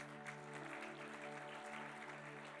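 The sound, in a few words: congregation applauding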